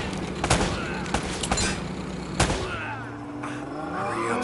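Gunfire rings out in the Uncharted action game, several sharp shots scattered over a rumbling background of game sound effects at moderate volume.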